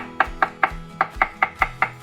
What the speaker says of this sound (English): It's still doable, but chop them up.